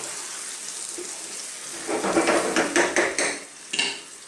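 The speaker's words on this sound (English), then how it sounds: "Let's get this in, a little stir." Chopped fresh and canned tomatoes with lamb are stirred in a pot for slow-cooked lamb with rosemary: quiet at first, then a run of wet, scraping clatters and knocks from about two seconds on, fairly close, with no talking.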